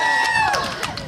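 Crowd at a disability rights rally cheering and yelling, a dense burst of mixed voices with rising whoops and shouts, loud and close, continuing for about a second.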